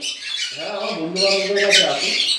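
An adult conure parrot, about three years old, gives harsh raspy squawks up close, with a voice talking underneath at the same time.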